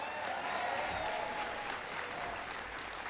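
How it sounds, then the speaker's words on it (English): An audience at a President Obama infrastructure speech applauds steadily, a dense wash of clapping that holds at an even level throughout. "Give Duncan a big round of applause for the great introduction."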